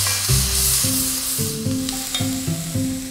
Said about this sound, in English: Now add two large sliced onions and two cloves of garlic. Give that a good stir around.